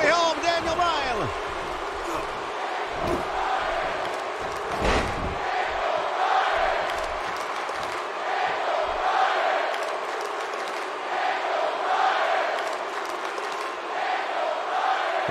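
A wrestling video game crowd roars in a steady, broad wash behind commentators talking, with a few sharp impacts and thuds from the ring near the start.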